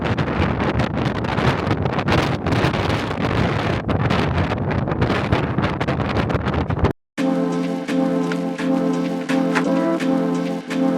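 Strong coastal wind in Cornwall, near St. Michael's Mount, buffets the microphone in a continuous roar for several seconds, then cuts out briefly before steadier, noisy rumble resumes.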